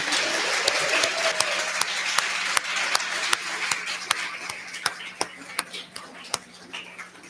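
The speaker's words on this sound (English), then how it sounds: "And another round of applause for all our finalists that put in all that work." An audience at the 2022 Women's Fiction Writers Association awards applauds the Rising Star finalists, a steady wash of clapping with sharp, distinct individual claps standing out at a fairly regular pace throughout.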